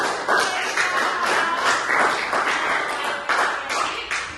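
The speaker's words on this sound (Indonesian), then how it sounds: "tepuk tangan dulu" A school class claps together for several seconds, a dense burst of hand claps with rhythmic surges, close and fairly loud.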